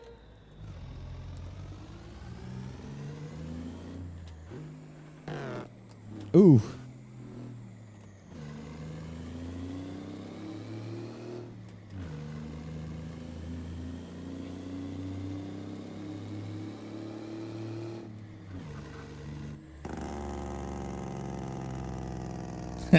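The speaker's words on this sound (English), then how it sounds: "Oh, listen to that engine." A truck engine in American Truck Simulator drives and revs through Des Moines, Iowa, a steady low rumble running throughout, with a brief loud burst around the middle and a voice briefly exclaiming.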